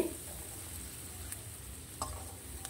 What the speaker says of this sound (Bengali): এখন পেঁয়াজটি আমি একটু লাল লাল করে ভেজে নেব।